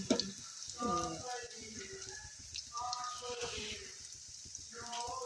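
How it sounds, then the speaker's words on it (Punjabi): Food sizzles gently in a frying pan, a soft steady frying hiss running beneath a person speaking throughout. "ਇਹ ਜੀ ਫਰਾਈ ਹੋ ਜਾਣਗੇ"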